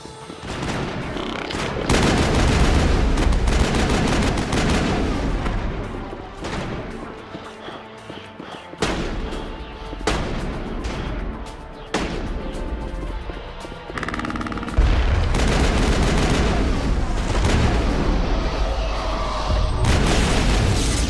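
Video game gunfire booms in loud repeated bursts and volleys, dense and continuous with heavy low impacts and short gaps between barrages.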